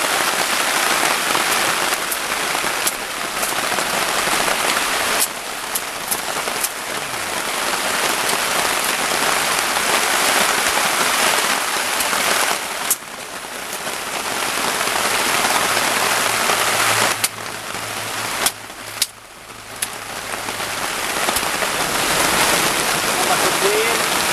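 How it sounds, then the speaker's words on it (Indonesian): Steady heavy rain pours continuously, a loud dense hiss with a few brief dips and small knocks along the way. "Cuacanya hujan."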